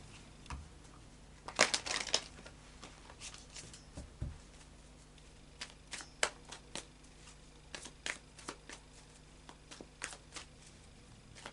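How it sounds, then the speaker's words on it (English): Tarot cards being cut and shuffled by hand on a table: a burst of riffling near the start, then scattered soft slaps and rustles of the deck, close and alone without talk. "We've had a card just flipped out while I was actually cutting the cards"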